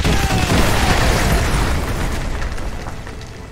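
A danger-close artillery strike in Modern Warfare 2 Remastered erupts as a loud, near, rumbling explosion with crackling debris, then slowly decays over several seconds.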